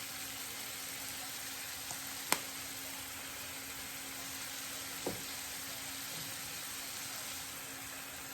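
Shrimp and beef with garlic paste sizzle steadily in a pan, a constant hissing fry with a couple of faint taps of a utensil and no voices.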